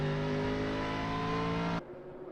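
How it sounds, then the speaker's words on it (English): A McLaren race car at a Japan Cup race at Okayama passing close by, off throttle, giving a steady loud engine drone that drops away abruptly near the end. "Comes past the window of the commentary position, almost sounded like he's off throttle"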